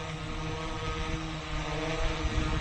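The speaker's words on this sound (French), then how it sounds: "Le drone devrait tourner sur lui-même." The propellers of an XMRC M11 Turbo drone whir in a steady, dense broadband hum as it spins in place, even and unbroken throughout.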